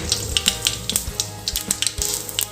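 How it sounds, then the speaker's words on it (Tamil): Rapid crackling and popping of mustard seeds sizzling in hot oil while making kara paniyaram, sharp irregular spits over a steady frying hiss, close by. "இப்போ நம்ம சேர்த்துருந்த ஆயிலில் கொஞ்சமாக கடுகுங்க"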